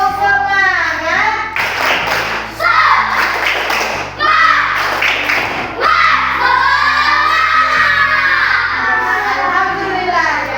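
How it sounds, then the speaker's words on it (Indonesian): Schoolchildren in a classroom perform a rhythmic spirit clapping chant together, loud and close, with bursts of patterned claps mixed with shouted and sung voices of the kids across the whole stretch. "kita akan tepuk semangat dulu ya"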